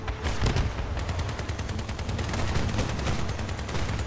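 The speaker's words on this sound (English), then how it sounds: "That's one of the nice things about these miniguns is you can just strip missiles out of the air" Sustained automatic minigun fire from a vehicle in the combat game Crossout, a dense, unbroken rattle of rapid shots that holds loud and close from start to finish.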